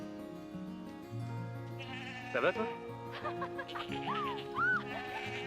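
Goats bleat in a few wavering cries, close by, over a steady low hum, with a brief spoken exchange mixed in.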